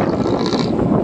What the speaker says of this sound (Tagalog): Medyo mahugong lang ang hangin kasi nasa biyahe tayo